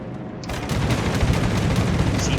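Naval gunfire in World of Warships: loud, dense booming salvos from warship guns, with a Kremlin battleship firing during a close engagement, the blasts rolling continuously through the whole stretch.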